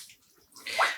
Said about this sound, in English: I'm just going to squeeze the water out. I just do this by hand.